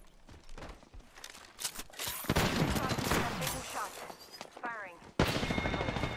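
Rapid gunfire bursts in the Apex Legends video game, loud volleys with clattering shots over game noise and voices talking, ending in a sharp renewed burst near the close.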